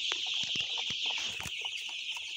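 Two-week-old chicks in a shed, a dense chorus of high peeping chirps running continuously, close and steady, with no talking.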